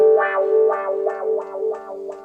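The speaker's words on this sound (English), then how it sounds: "On the CP1, I've got this sound with the built-in wah pedal" A sustained electric piano tone from a Yamaha CP1 swept by its built-in wah effect, opening and closing in a steady rhythmic pulse about five times.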